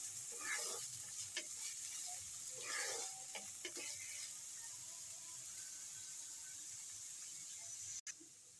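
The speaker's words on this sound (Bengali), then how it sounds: "তাই গাজরটাকে পেঁয়াজের সঙ্গে আমি একটু ভেজে নেব" Chopped carrots and onions fry in a pan for a noodle dish, giving a steady close sizzle with bursts of stirring and scraping near the start, then a hiss that holds until a brief cutoff near the end.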